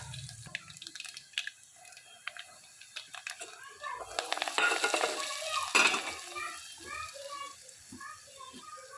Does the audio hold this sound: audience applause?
no